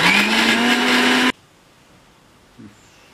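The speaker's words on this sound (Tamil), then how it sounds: "இதை அரைச்சி எடுத்துக்கலாம்." An electric mixer grinds onion chutney with cumin for dosa, giving a loud, steady whir for just over a second before cutting off abruptly into near silence, followed by one faint soft knock.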